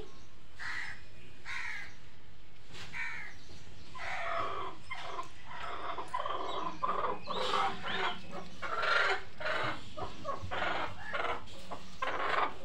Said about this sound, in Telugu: ఇదిగోండి ఇదే మన కోడి